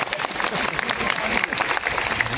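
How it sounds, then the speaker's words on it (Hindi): A crowd of weavers claps at a political welcome gathering in Ambedkar Nagar, irregular sharp hand claps blending into a steady patter, with voices talking underneath throughout. "चलो ताली बजाओ।"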